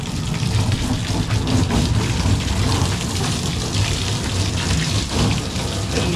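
Water gushes out of a garden water tank in a loud, steady rush that runs without pause.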